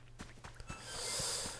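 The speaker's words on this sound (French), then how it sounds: "Pardon pour les reniflages." Someone sniffles close by, a few short nasal intakes and soft knocks followed by a longer breathy hiss, heard alone without speech.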